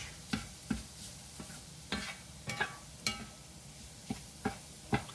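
Sausage with spices browns in a pan for a from-scratch meat sauce, a low steady sizzle broken by a string of sharp scraping stirs at uneven intervals, close up and without talk.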